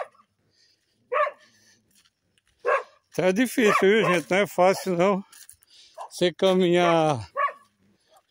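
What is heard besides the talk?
dogs barking on a walk in the sertão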